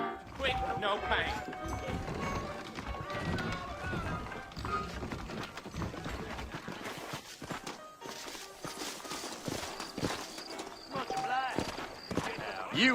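Saddled horses trot with steady, rhythmic clip-clop hoofbeats in the Western video game Red Dead Redemption, continuous and fairly loud amid a busy mix of other game sounds.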